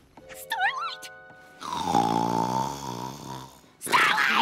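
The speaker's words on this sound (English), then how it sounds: "Your snoring is a bit, Loud?" A cartoon pony snores loudly in a single long, rasping, throaty drone, close and steady, with brief voiced sounds just before and after it.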